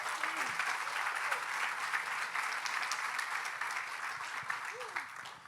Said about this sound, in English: I think we can applaud that, can we not?